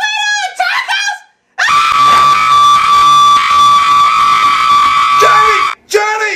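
A child screams loudly and continuously for about four seconds in an animated episode, a piercing sustained shriek, with brief voices just before and after it.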